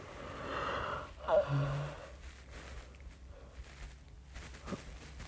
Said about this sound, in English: Sorry, another yawn.